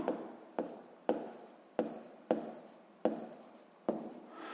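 Pen strokes on paper come as a series of about eight short scratching bursts in an uneven rhythm, close and quiet, with no talking over them.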